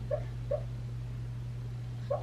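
A dog indoors gives three short soft whimpering yips spaced across the clip, set over a steady low electrical hum.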